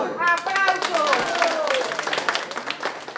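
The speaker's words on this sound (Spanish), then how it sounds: "¡Aplausos!" Elderly residents at a nursing home exercise session in Havana clap together, a lively close patter of hands mixed with overlapping voices calling out.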